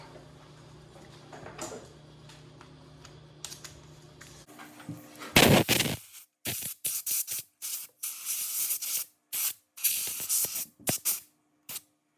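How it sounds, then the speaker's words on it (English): Compressed air blows around the spark plug holes of a 2015 Toyota Highlander 2GR-FE V6, one strong close hiss followed by a run of short, sharp puffs with brief silences between them. "I'm gonna blow a little air on these before I do this, just to make sure I can not drop anything down those holes"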